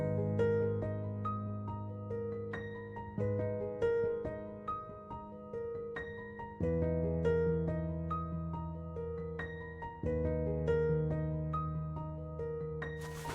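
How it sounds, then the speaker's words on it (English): A Lure Modern upright piano on its basic felt upright preset, with no effects, plays soft, muted chords and plucked melody notes in a repeating pattern over sustained low notes. It is fairly quiet and close, with no voices. "it's a Lure Modern upright, and I picked the basic felt upright preset"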